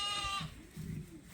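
A sheep on a sheep farm gives a short, close bleat, followed by a lower, muffled second call a moment later, with no other sounds.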